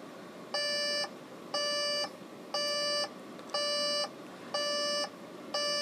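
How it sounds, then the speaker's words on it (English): Electronic alarm beeping from a 1974 Micronta 63-810 LED digital alarm clock in regular bursts, about one pulse per second, each a bright high-pitched tone group, repeating steadily with no one speaking. "the alarm's about to go off"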